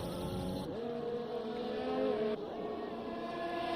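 A Formula 1 race car engine in the F1 2020 video game drones steadily and loudly, its pitch dropping abruptly twice as a glitching gearbox shifts oddly.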